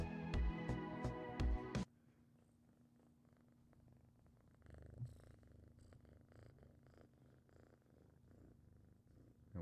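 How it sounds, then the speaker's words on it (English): A house cat purrs softly and continuously close by, a low rumbling hum that follows a brief loud tonal burst at the start, with no voices over it. "I wonder if the mic can pick up your purr."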